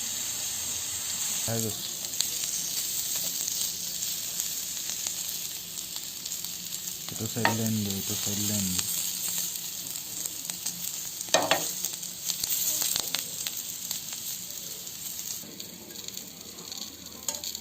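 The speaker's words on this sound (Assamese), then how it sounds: "গাজৰ আৰু কেপচিকামখিনি মই ইয়াতে অলপ সময় ভাজি ল'লোঁ।" Carrots and capsicum sizzle steadily in a hot pan, with a few short scraping stirs breaking through the constant frying hiss.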